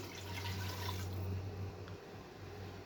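Water poured into a pressure cooker pot of gajar gosht with carrots and spices, a close splashing, trickling fill that swells in the first half and then settles into a quieter running pour.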